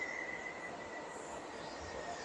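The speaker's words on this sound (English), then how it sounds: "There is a train coming." A train approaching near a rail tunnel in Brazil, a faint, steady rumble with a thin high metallic whine running through it, heard from a distance without any talk.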